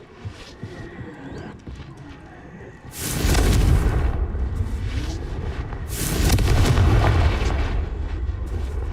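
Two heavy, booming blasts from the Confringo fire spell in Hogwarts Legacy on Nintendo Switch, each landing loud and close with a deep rumbling tail over a low background hum.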